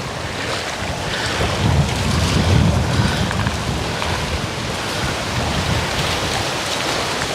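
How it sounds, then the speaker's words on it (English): Strong wind rushing through trees at a Tomoka State Park campsite, a loud continuous roar with gusting swells and heavy microphone buffeting, no talking. "It's awful windy."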